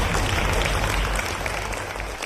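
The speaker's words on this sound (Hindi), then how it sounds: "जोरदार तालियों से अभिनंदन करते हैं हमारे आज के मेहमान का" A studio audience applauding to welcome a guest, a continuous wash of clapping at moderate loudness with a faint voice underneath.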